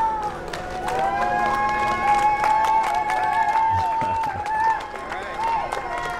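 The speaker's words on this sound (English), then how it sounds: "Small crowd, but big cheers." A small crowd cheers and claps outdoors as SpaceX astronauts walk out toward the launch pad, sustained mid-distance whoops and applause running throughout with voices mixed in.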